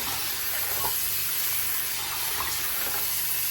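Vegetable leaves are washed under running water, a continuous close hiss of flowing water with no pauses and no one speaking.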